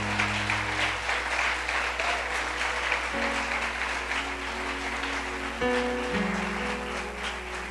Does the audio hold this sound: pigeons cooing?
no